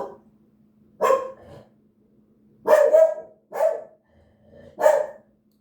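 A pet dog barks nearby indoors, four short separate bursts spaced a second or so apart, loud against otherwise quiet surroundings.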